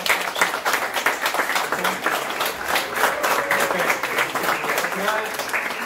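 Steady applause from a crowd at an award presentation at a nerd convention in Angra do Heroísmo, dense clapping sustained throughout with voices mixed in.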